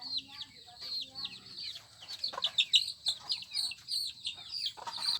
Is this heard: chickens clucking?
yes